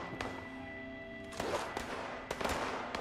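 Gunfire in the video game Fallout 76: several sharp, distant-sounding shots crack out at irregular intervals over a low, steady background hum, with no voices.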